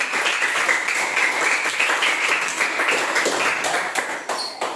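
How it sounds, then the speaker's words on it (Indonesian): Classroom applause during a mathematics lesson, students clapping together in a lively, steady patter that continues for several seconds before thinning at the close. "Ya, berikan tepuk tangan untuk"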